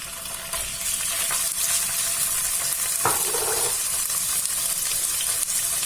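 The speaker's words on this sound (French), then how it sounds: "J'ai mis un petit peu d'huile. Je vais mettre mes oignons." Onions frying in a little oil in a cooking pot, giving a steady hiss of sizzling throughout with one brief crackling burst partway through, close and moderately loud.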